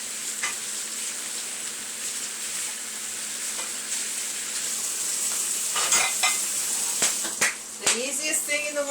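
Mushrooms sizzling and frying in a pan for chicken Marsala, a steady close hiss with scattered sharper crackles and stirring clatter toward the end.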